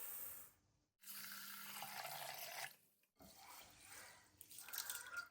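Basmati rice is washed in a bowl under running water, with tap flow in bursts separated by short pauses and faint sloshing and dripping close by.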